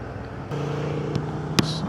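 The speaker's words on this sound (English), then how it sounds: "Oh, there is a bus also." A bus rolls along the coastal road to Dhanushkodi by the ocean, its engine hum rising and holding steady as it passes close by, with a couple of brief knocks along the way.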